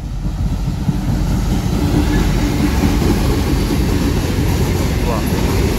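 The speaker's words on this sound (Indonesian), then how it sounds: "apa nih kereta api? 2 rangkaian lokomotif." A long coal freight train hauled by two locomotives rolls past nearby as a loud, continuous low rumble that fills the whole stretch.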